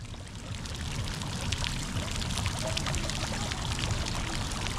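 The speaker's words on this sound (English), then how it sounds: "you can fill your own bottles and containers with the hot spring water" Warm water from a hot spring pours steadily into a bottle, a continuous even splashing and trickle close to the microphone with no talking.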